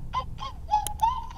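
A human voice imitates a bird call with four or five short, cooing hoots in quick succession, close and fairly quiet, during a family video call.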